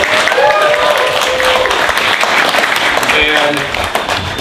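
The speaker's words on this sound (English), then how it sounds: "Let's give Ron a round of applause." Audience at a street-art panel discussion in New York City breaks into dense, sustained clapping that tapers off slightly toward the end, with voices and a few shouts mixed in.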